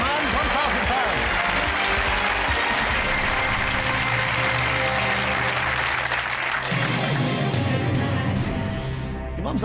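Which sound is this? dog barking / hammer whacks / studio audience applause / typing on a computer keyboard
studio audience applause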